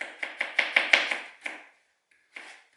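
A knife chops a potato into very thin slices on a board, about nine quick, evenly spaced cuts in a steady rhythm, then a pause and one more cut, close and clear.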